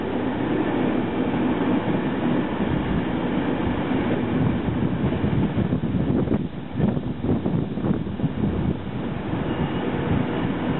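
A Class 390 Pendolino electric train at London Euston rumbles steadily, with rolling wheel noise and some clattering over the rails, heard fairly close and loud.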